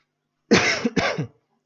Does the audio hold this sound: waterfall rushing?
no